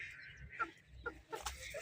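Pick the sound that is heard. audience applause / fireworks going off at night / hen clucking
hen clucking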